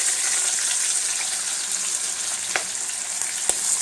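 Sliced white mushrooms and chopped white onion sautéing in a hot pan for a lamb stew, giving a loud, continuous hiss with a few faint stirring ticks.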